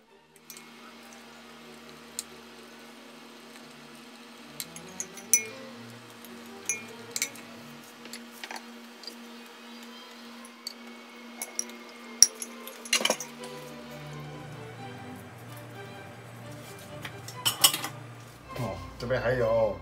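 Homemade western-style fish stock, simmered from leftover fish bones, is strained in a kitchen: scattered clinks of pots, metal utensils and dishes, then splashy pours of liquid near the end, with occasional talk.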